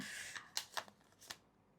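Tarot cards are shuffled by hand, a soft hiss followed by several crisp riffling snaps and flicks spaced unevenly, close but quiet, with no talk.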